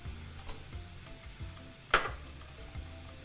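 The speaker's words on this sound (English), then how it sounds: "Okay, stir that around." A thick spaghetti frittata mixture with tomatoes is stirred in a pan, giving soft, faint scraping and light sizzling with one sharper utensil clink partway through; no one speaks.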